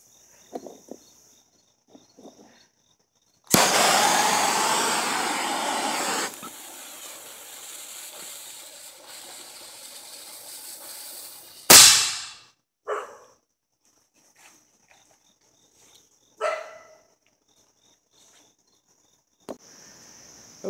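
A medieval cannon replica is lit outdoors: the fuse hisses for a few seconds, then after a pause a single sharp, loud bang rings out, with insects chirping faintly around it.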